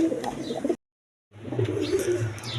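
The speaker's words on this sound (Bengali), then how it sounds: "কবুতর কারে কয় দেখেন, হাই ফ্লাইং গিরিবাজ কবুতর" High-flying Giribaz pigeons coo softly at close range in low murmuring bursts, interrupted by a short silent gap, with faint chirps and background noise.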